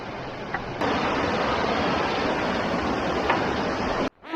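Steady broadband rush of river water while wading across a jungle river on a long hike, loud and continuous from start to finish, close to the microphone, with no voices, ending in a sudden break.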